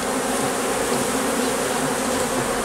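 A steady, dense buzz of many honeybees swarms around a small nucleus hive, continuous and close throughout with no voices.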